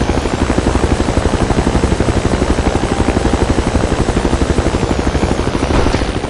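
A helicopter flies in the video game Battlefield 2, its rotor chopping in a loud, steady, rapid beat that runs without a break, with no talking over it.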